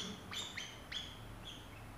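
A pet lovebird gives several short, bright chirps in quick succession, clear and close against a faint room background.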